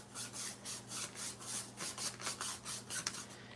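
Hard brushing and rubbing strokes while making handmade washi tape, a steady series of rhythmic scraping sweeps, close and fairly loud, repeating roughly every third of a second over a low background hum with no talk.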